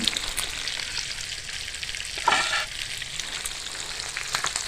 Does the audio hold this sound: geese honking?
no